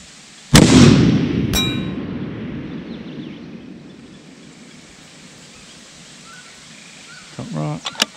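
A .300 Win Mag rifle fires one loud, close shot, then a long rolling echo fades outdoors, with a fainter second crack and voices talking near the end.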